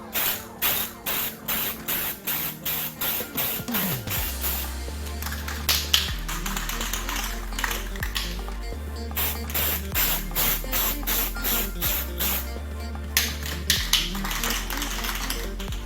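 Spray can laying a clear coat onto an Xbox One controller: repeated loud hissing bursts in a steady rhythm, with clicks and rattles between sprays.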